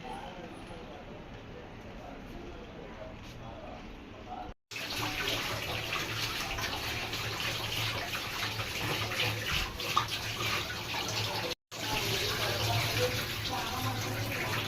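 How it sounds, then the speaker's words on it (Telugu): Dried fish is washed in hot water, with steady sloshing and swishing running nearly throughout, broken by two brief cuts. A person talks over the washing for much of the clip. "ఎండు చేపలు వేడి నీళ్ళు పోసాం కదండి వేడి నీళ్ళలో బాగా ఇలా అనేస్తే దాని మీద ఉన్నదంతా పోతుంది"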